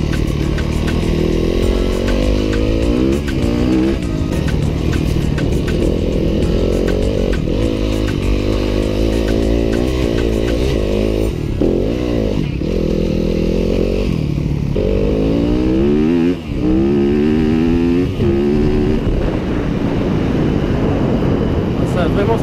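A 2015 Yamaha WR250F dirt bike engine revs hard and continuously, pitch climbing and dropping in sharp surges, close and dominating throughout.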